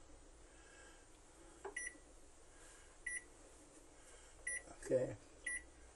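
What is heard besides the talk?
oven control panel beeps while setting preheat to 350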